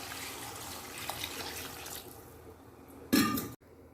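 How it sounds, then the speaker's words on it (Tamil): Water pours into a pan of chicken pieces for spicy pepper chicken, a steady close splashing trickle that thins out midway, then a brief louder clatter before near silence. "நான் இப்போ இதில் சிக்கன் முழுகிற அளவுக்கு தண்ணியை ஊற்றிக்கிறேன்."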